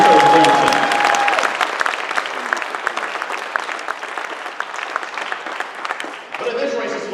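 A debate audience applauds at a district congressional debate, giving loud, dense clapping that fades slowly over several seconds before a short quieter swell near the end.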